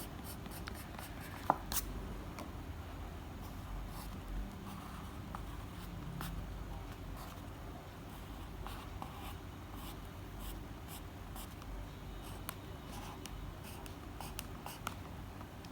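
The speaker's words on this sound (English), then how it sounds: "first do the outlining of the fish" A pencil outlining a fish drawing on paper, a steady, faint scratching that runs unbroken and close up, with a brief sharper tap partway through and no talking.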